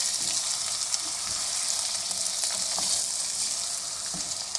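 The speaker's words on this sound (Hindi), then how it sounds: "चिकन को हमने 4 से 5 मिनट फ्राई करना है अच्छी तरह" Chicken fries over high heat in a pan, a continuous bright, hissing sizzle with scattered small pops, steady and unbroken with no voices.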